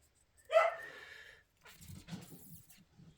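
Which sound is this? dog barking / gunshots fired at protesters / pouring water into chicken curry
dog barking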